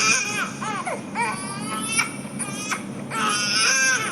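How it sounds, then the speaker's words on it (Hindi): A baby wails from a television in a horror-story scene, with loud, close, rising and falling cries broken by short gasps and a brief quieter whimper midway. "वो बच्चे के रोने की आवाज टीवी से आ रही थी"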